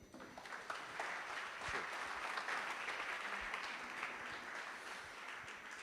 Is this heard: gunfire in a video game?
no